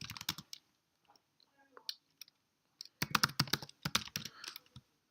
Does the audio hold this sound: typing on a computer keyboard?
yes